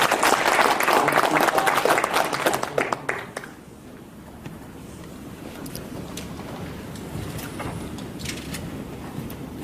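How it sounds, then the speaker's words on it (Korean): Audience applause at a lecture event, dense clapping filling the room for about three seconds before dying away into a quiet hall with faint rustling. "자손님들은 전부 다 박수 한번 남 교수님한테 쳤습니다"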